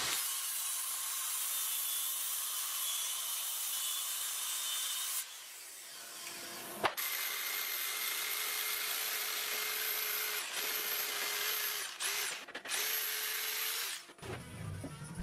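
Power cutting of ash wood bar tops along a template, a steady high whining rasp running almost continuously, broken by a few brief pauses and clicks near the end.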